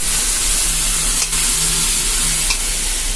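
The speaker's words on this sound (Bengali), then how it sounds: "তো এখানে আম ভাজা চলছে, তো গাছে যে আমটা পারলাম সেটাই এখন দেখো ভাজা চলছে ডালের জন্য।" Mango pieces frying in a pan for dal, a steady close sizzle with occasional stirring scrapes, no voices.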